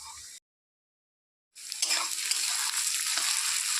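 Onions frying in a pan for chicken curry, a bright continuous hiss and crackle that cuts in after a short silence and then holds steady and close, with faint scraping and no talking.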